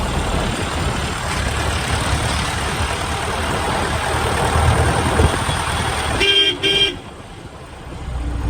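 A Jeep's engine runs with a steady, close rumble, then a short horn toot sounds near the end.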